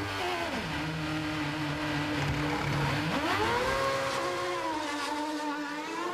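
A Formula One car driven by Mark Webber makes a 2.05-second, four-tyre pit stop at the Malaysian Grand Prix. A loud, continuous engine note sags in pitch, then swells and climbs again, with no voices.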